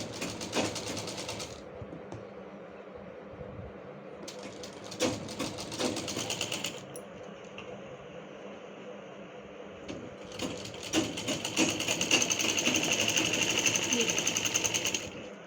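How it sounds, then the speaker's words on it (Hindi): A sewing machine stitches the shoulder seam of a dress in several bursts of rapid mechanical whirring, separated by short pauses, with the longest run at the end; someone speaks in Hindi between the bursts. "अब शोल्डर से अदर हाफ साइड में स्टिचिंग स्टार्ट कर लेंगे"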